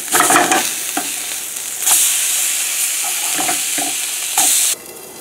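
A piece of fish just flipped and frying in a pan, a loud close sizzle that flares up in bright bursts and then settles into a steady hiss.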